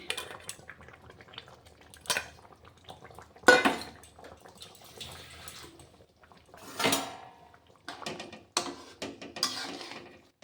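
Fried Kashmiri chillies and onion petals dropped into a pan of pomfret fish curry, with scattered clinks and scrapes of a spoon against the pan, close and intermittent with quiet gaps between.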